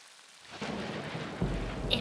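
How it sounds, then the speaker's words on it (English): A cartoon-style thunderstorm sound effect opens with near quiet, then swells into steady rain with rolling thunder rumbles that grow louder, with a stronger boom toward the end. "It was a dark and stormy day."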